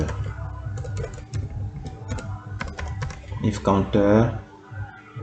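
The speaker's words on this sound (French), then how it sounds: "donc Alt 62 chez moi ici, parce que je n'ai pas ce signe sur mon clavier, donc je fais Alt 62" Clicky keystrokes tap on a computer keyboard during an Alt code entry for Excel VBA work, a steady run of close, crisp presses with a few louder clacks, and someone speaks over part of it.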